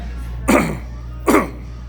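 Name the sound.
coughing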